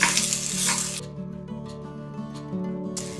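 Cabbage goes into a pan of frying onion and butter, giving a loud burst of sizzling that settles into a steady, quieter fry with faint clinks and stirring scrapes, and no one talking.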